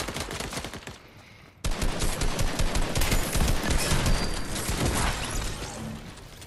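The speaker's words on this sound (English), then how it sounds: "No, so he's shooting me." Opponent gunfire in the video game Fortnite cuts in abruptly as a loud, dense burst of rapid shots that keeps rattling for several seconds before thinning slightly.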